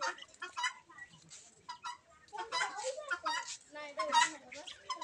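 A small flock of guinea fowl walking together with their chicks, giving repeated short clucking and chattering calls at close range, with a voice mixed in among them.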